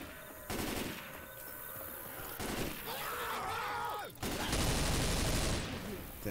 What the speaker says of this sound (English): Damn, I wasted a lot of bullets for one zombie.